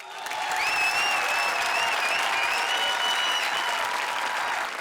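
Loud, sustained applause from a studio audience welcomes the teams onto a Comedy Circus 20-20 stage, steady throughout with bright tonal music sweeping over the clapping.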